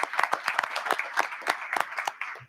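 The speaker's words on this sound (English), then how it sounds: "if everybody would please give him a round of applause" Brief round of applause filling a legislative hearing room during a House education committee session, dense overlapping hand claps at close range with no talking over them.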